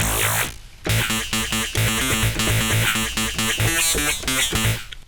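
Opening preset sample 23 of the Tribute wavetable synth plays alone as a dense, buzzy patch with stacked harmonics, struck in rhythmic chord stabs and sustained notes for about five seconds at steady loudness.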